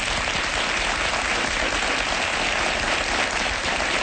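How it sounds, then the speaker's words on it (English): A television studio audience claps steadily for an arriving talk-show guest, an even wash of applause holding at constant strength throughout. "Give him a big round of applause."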